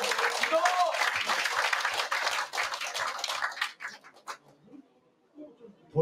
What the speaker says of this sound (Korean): 여러분 동의하시면 큰 박수 보내주십시오